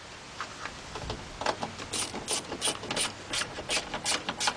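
A socket ratchet tightening the side mirror nuts on a 2014 Ford F150 pickup clicks in quick, repeated bursts, close and fairly crisp, each stroke giving a rapid string of pawl clicks.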